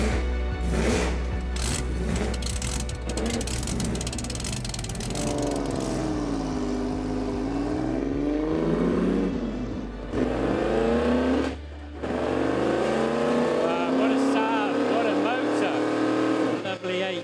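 Cars driven around the Silverstone track, a steady loud engine drone rising and falling in pitch through gear changes, with a voice speaking over it.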